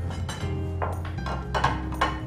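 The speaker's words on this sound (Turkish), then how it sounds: "Gelin soğanlarımızı da doğrayalım." Onions are cut on a board in a home kitchen, producing a string of irregular knife taps and light clinks close by, with a low steady hum underneath.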